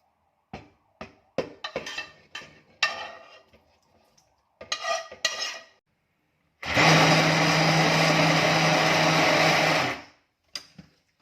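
Several short clattering bursts of loading and tapping, then a blender whirs loudly and steadily for about three seconds blending liver spread ingredients before stopping.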